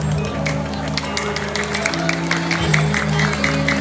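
An audience applauds the gamelan musicians at a Balinese temple performance, a dense, steady wash of clapping over sustained ringing tones from the ensemble.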